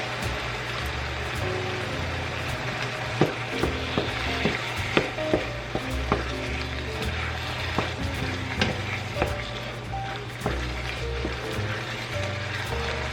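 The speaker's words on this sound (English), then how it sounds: "and now I'm going to add a can of tomato sauce and a can of fire roasted" Canned tomato sauce and fire-roasted tomatoes sizzle and bubble in a hot pan, a steady close frying hiss with occasional stirring scrapes and small pops throughout, no voices.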